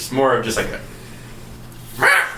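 During a Starfinder tabletop game session, someone speaks briefly and then gives a short, sharp vocal squawk-yelp, a close voice imitating a creature's cry.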